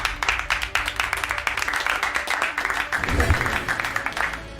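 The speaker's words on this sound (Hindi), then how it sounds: "तालियां" An audience at a live comedy show breaks into applause, a dense crackle of many hands clapping steadily for several seconds, with some voices mixed in.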